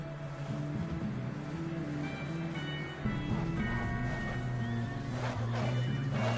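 A horse whinnies in Red Dead Redemption 2, a couple of neighing calls rising over a steady low rumble of background game ambience, close and moderately loud with no talking.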